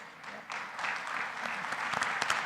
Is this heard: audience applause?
yes